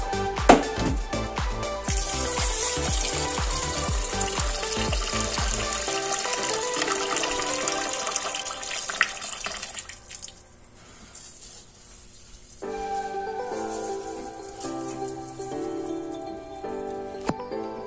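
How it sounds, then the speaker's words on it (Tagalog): Rice grains are washed in water to prepare them for a rice cooker, with running water and swishing in the early part. The washing fades into quieter splashing and handling noises later, and no one speaks. "hugasan natin ang bigas ng 2 beses"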